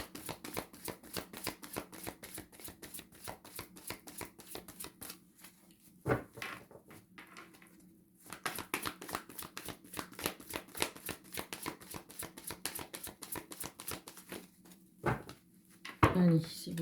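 Tarot cards are shuffled by hand in rapid riffling bursts of crisp flutters and slaps, pausing briefly twice, with a short thump near the end. The sound is close and fairly quiet.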